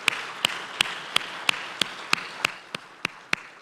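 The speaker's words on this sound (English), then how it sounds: "Please give everybody a big round of applause." Ten or so sparse, evenly spaced sharp claps with a faint wash behind them, thin scattered applause from an audience at the 2021 Techblazer Awards ceremony as finalists are announced.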